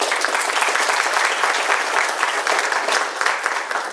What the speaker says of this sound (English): a round of applause for Tanzila